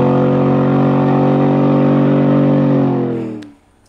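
A street race car in a cash days shootout launches in second gear, its loud steady engine drone holding for about three seconds before cutting off abruptly, leaving near silence.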